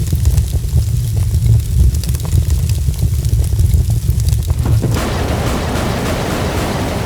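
Looping fire sound effect playing in Unreal Engine 4 for a custom weapon: a loud, steady roaring rush with low rumble, changing to a brighter crackling hiss partway through, continuous with no talking.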